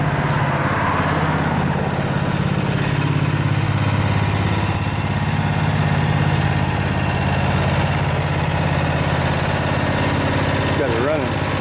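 Snapper Pro 36 walk-behind lawn mower engine running steadily at idle close by, a continuous low droning chug with voices talking over it.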